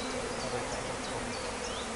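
Bees buzz steadily over a hive frame where a male honeybee drone crawls among capped brood, a close continuous insect hum with no voices.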